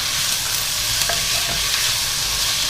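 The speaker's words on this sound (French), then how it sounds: "mes oignons. Donc je vais les faire revenir pendant 3-4 minutes." Onions fry in a pan for a Flemish carbonade, a dense, even sizzle heard close up and alone for a few seconds with faint crackles.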